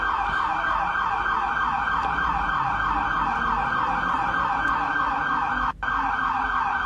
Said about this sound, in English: Enjoying the siren and dance.